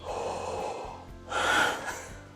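A vocal teacher demonstrates a noisy inhaled breath, a raspy airy gasp-like intake that swells, pauses, then rises again loudly up close, with no talking.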